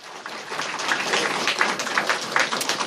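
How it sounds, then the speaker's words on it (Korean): A church congregation claps in a steady, fairly dense burst of applause that carries on for a few seconds at moderate level in a room. "박수."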